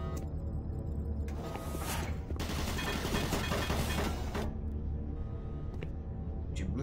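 An automatic turret in Doom 3 firing a dense burst of rapid shots in the middle, set against a steady low hum and a few scattered clanks and a voice.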